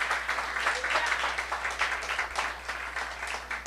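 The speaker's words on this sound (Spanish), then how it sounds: "Dele esas palmas a él." A church congregation claps in a dense, steady round of applause that fills the room, with a low hum underneath and no voice over it.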